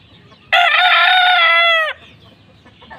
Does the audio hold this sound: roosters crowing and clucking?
yes